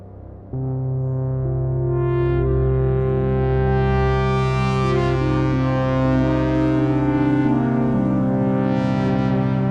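A sustained analog-style Arturia Mini D (Minimoog clone) synth lead with rich, buzzy harmonics, holding and gliding between low notes, loud and alone with a reverberant tail.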